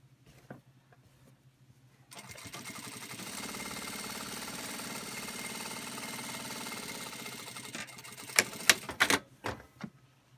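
A Singer industrial sewing machine stitching a bag runs in one long, steady mechanical whir of rapid needle strokes, then stops, followed by several sharp clacks and handling knocks close by.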